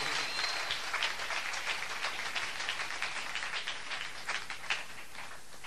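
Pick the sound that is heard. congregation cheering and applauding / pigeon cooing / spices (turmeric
congregation cheering and applauding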